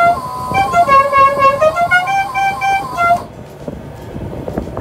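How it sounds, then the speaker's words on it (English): A General Lee musical car horn on a trailer plays its melodic tune loudly for about three seconds, then cuts off, leaving wind and a running generator behind it. "Got a General Lee horn."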